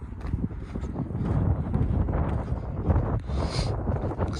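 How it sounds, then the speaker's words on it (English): Wind buffets the microphone on a warm, breezy day at Larnaca Salt Lake in Cyprus, a loud rumbling gusty roar that swells and eases throughout with no voices. "breezy day, although it's warm, it's breezy."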